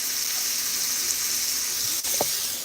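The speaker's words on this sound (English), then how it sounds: "Put some butter on top, make it buttery, creamy, and then press it down. Ooh, yeah. Get that sizzle on it." Butter sizzling on food pressed down in a hot brunch pan, a steady faint frying hiss throughout with a brief tap near the end.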